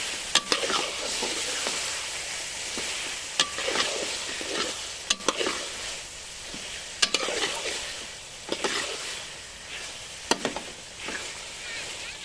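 Chickpeas roast in masala for chana pulao, with a continuous sizzle broken by sharp spoon clacks and scrapes against the pot at irregular intervals, close and without talk.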